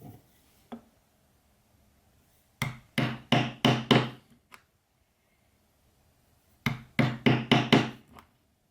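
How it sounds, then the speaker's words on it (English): A stitching chisel is hammered into sheepskin leather for a biker vest keychain, two quick runs of four to five sharp, close mallet strikes each, separated by silence. "These top ones I will still do with the stitching chisel."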